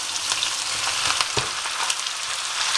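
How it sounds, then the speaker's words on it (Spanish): Chicken sautéing with onion and vegetables in a pan for a stew, a loud close sizzle running without a break, with a few soft utensil knocks partway through. "Que se vaya rehogando el pollo junto con la verdura, poquito a poco."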